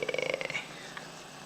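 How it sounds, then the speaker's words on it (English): A pet cat called Tilly purring right next to a webcam, a short run of close, rapid rhythmic rumbling pulses that fades out after about half a second. "You're purring away, aren't you, girl?"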